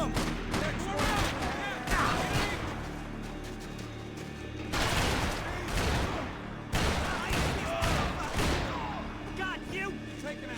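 Rapid gunfire from the video game Max Payne 3, dense overlapping bursts of shots and booming impacts filling the scene, with shouted voices mixed in among the loud, continuous combat.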